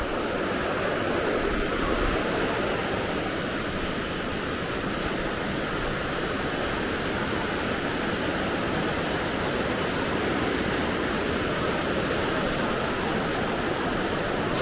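Steady broadband rush of a river flowing below a rock dwelling beside forest and rice fields, a continuous even wash with no breaks and no voices.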